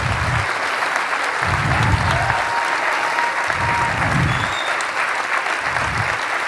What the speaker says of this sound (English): These guys, you deserve a huge ovation. Round of applause.